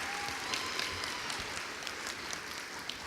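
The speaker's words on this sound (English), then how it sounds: "If we could give them all a big round of applause for being with us as well this evening." An outdoor crowd at the 2018 May Day opening ceremony in Port Coquitlam gives a round of applause, a dense, fairly distant wash of clapping held steady throughout.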